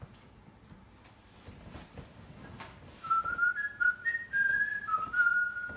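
A person whistles a wavering, tuneful phrase of sliding notes, clear and fairly close, following a few seconds of quiet room sound.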